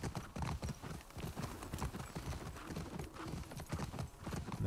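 Horse hooves clip-clopping in the video game The Last of Us Part II, a steady close rhythm of hoofbeats with no talking over it.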